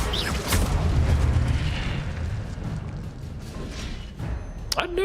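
A loud, sustained fiery roar and rumble as the Incendio fire spell is cast in Hogwarts Legacy, filling the scene before fading, with a faint voice briefly underneath.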